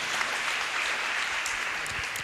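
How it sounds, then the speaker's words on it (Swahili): A church congregation at a Kikuyu Presbyterian service claps steadily for their pastor, a dense, continuous wash of applause filling the room with no pauses. "Situmpigie mchungaji wetu makofi."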